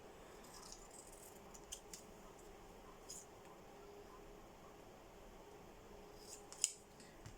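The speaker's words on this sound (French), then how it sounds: "Sortir les grands ciseaux." Large scissors cut through card for a handmade men's greeting card, giving faint, soft snips in a quiet room, with one sharper click near the end.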